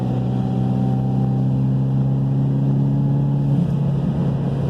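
A 2008 Mitsubishi Lancer Evolution X cruises on the interstate around 3,800 RPM at about 75 mph, giving a steady, loud engine drone with tonal hum and road roar inside the cabin, and a slight shift in pitch near the end.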